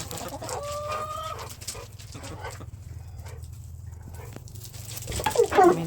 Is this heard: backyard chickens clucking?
yes